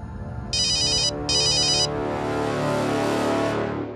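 A mobile phone ringtone plays loudly and close, with two bright electronic bursts and then a sustained melodic tone as the call goes unanswered, and no talking.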